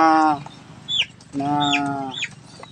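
Rhode Island Red chickens, recently treated for fowl pox, give two drawn-out, close clucking calls, each followed by sharper short squawks, with no human voices.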